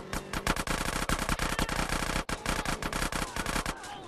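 GTA San Andreas gunfire rattles in long, rapid automatic bursts with a brief break partway through, loud and close throughout.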